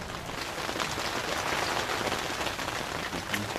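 Steady rain falls outdoors during a deep-frying session, a dense continuous patter on surfaces that stays loud and even throughout with no talk.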